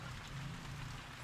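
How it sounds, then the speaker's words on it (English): Light village rain, a soft steady patter and drizzle of drops falling on surfaces nearby, faint and even throughout with no voices. "It's raining. It's dripping. It's drizzling."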